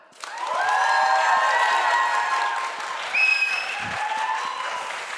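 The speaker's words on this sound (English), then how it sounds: "clap now" Audience at a business debate applauding and cheering, dense clapping with whistles and shouts rising over it, holding steady for several seconds.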